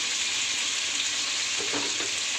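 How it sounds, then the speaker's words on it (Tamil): Coriander and mint leaves are sautéed in ghee in a pan, giving a constant loud sizzle with a brief stirring scrape near the end, close and with no voices. "சேர்த்துட்டு நெய்யிலே நல்லா வதக்கி விட்டுக்கோங்க, ரொம்ப வதக்க வேண்டாம்"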